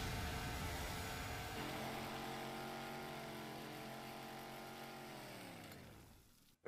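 A chainsaw in the Chainsaw Man anime roars in a dense, sustained rev whose pitch drops as it winds down and cuts off at the end, heard in a soft, muffled form.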